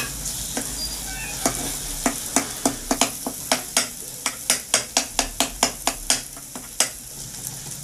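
Goat brain going into a pan of fried tomato and onion: steady frying sizzle under a quick series of sharp spoon clacks against the pan, regular and close.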